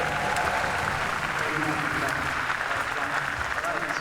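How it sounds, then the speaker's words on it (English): Audience applause for an orchestra at a concert event, a dense, steady wash of clapping that holds loud and even across the whole stretch. "that's one last round of applause for our orchestra team"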